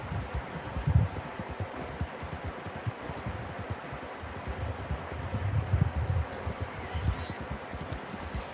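Horse hooves clip-clop in Red Dead Redemption 2, a steady rhythm of soft, close thuds mixed with light rustling that swells and eases over several seconds, with no talking.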